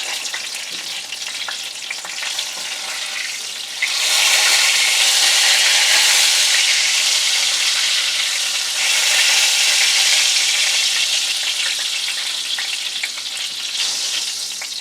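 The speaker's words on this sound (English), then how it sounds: "once you got the chicken done frying up" Chicken frying in a pan, a steady loud sizzle that swells louder around four seconds in and stays broad and crackling throughout, with no talking.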